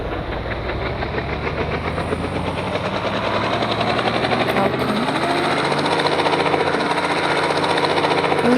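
A helicopter in the Indian Bike Driving 3D video game gives off a steady, fast, chopping rotor drone that holds the whole time and grows slightly louder toward the end.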